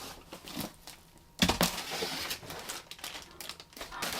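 A bedside lamp is unwrapped from its packaging: close, loud bursts of crinkling plastic and crackling paper come in irregular handfuls, with a sharp rustle and tear near the middle and quieter shuffling between.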